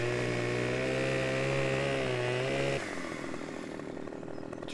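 A chainsaw cutting a tree in Farming Simulator 17 drones loudly and steadily, then drops abruptly to a lower idling rumble for the last couple of seconds.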